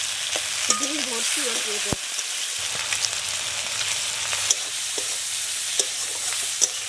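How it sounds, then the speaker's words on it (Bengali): Prawns and cumin seeds sizzle in hot oil, giving a continuous close frying hiss with sharp intermittent pops and crackles. A voice speaks a few words early on. "তেলের মধ্যে আবার জিরে দিয়ে দিচ্ছি। এবার চিংড়ি মাছগুলো দিয়ে দেবো।"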